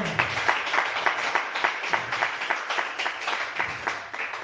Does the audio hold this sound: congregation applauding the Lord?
yes